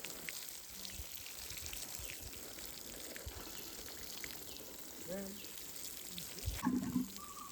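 Water splashes and hisses steadily onto arranged areca nut seedling beds, a continuous wash of noise with a few louder gushes near the end and faint voices in the background.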